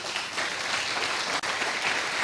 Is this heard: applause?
yes